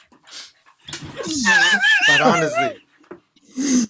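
A dog whimpers and yips in a rising, wavering whine, close by, followed by short breathy sounds and a final faint whine.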